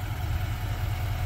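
A 2024 GMC Sierra 2500HD AT4 with a 6.6-liter Duramax turbo-diesel idles close by, a steady, loud low rumble with no voices over it.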